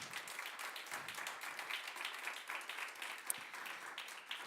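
Dense, steady applause from an audience at a public unveiling event, many hands clapping together at an even level throughout with no speech over it.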